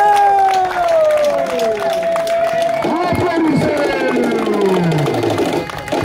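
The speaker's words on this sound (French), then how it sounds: "Applaudissez!" A crowd at an outdoor political campaign rally in Gabon claps and cheers, with loud shouts and rising and falling voices dominating over a scattered wash of applause.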